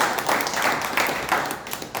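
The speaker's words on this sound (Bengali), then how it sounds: "করতালি" A crowd at a motivational gathering claps in steady, dense applause, loud and continuous for a couple of seconds with no voices over it.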